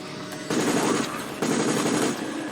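A fast automatic weapon in Resident Evil: Operation Raccoon City fires two long, loud bursts of rapid shots with a short pause between them, and no talking.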